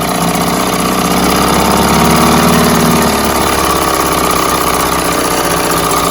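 An old Mercury 3.9 outboard kicker engine with cooling problems, running very hot, idles loudly and steadily up close, a constant rough mechanical drone with a faint knocking rhythm and no talking.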